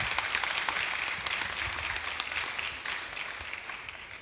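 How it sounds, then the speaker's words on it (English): Audience applause at a university technology week event, steady dense clapping from a crowd that holds throughout and tapers slightly near the end. "I thought I'll get a clap because it's free."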